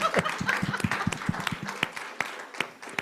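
A small audience applauds with scattered, uneven handclaps, close and moderately loud, over a few seconds. A faint voice is heard among the claps.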